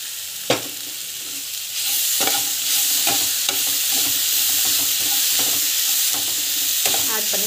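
Ginger garlic paste sautéing in a hot pan, a steady broadband sizzle under repeated sharp scrapes and clicks of a spoon stirring, close and fairly loud, with no talk.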